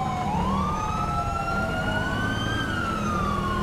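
Wailing police siren from a Georgia State Patrol car in a chase, with a steady, continuous rising and falling tone and rumbling engine noise underneath.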